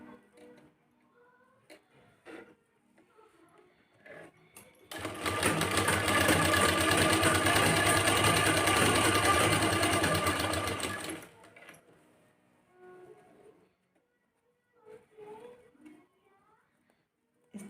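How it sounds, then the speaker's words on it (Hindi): A sewing machine runs stitches along the folded edge of a cloth drawstring. One steady loud burst of about six seconds stands between quieter stretches with faint handling sounds. "इस प्रकार हम किनारे किनारे सिलाई चलाते जाएंगे, कपड़े को संभालते हुए फोल्ड करते रहेंगे"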